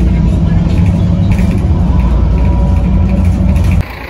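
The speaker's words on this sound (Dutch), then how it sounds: "En daar komt de bus en het is dezelfde als daarnet." A Mercedes-Benz Citaro city bus pulls in on an Antwerp street, its deep diesel engine rumbling loud and close before the sound drops off abruptly near the end.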